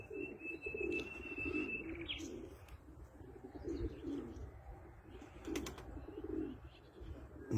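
Tumbler pigeons cooing in repeated soft, low phrases at close range, with a few thin chirps and brief bursts of wing flapping.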